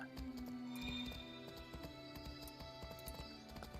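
Horse hooves clip-clop steadily at a walking pace in the fantasy game Project Gorgon, quiet and even, over soft ambient game music with no talking.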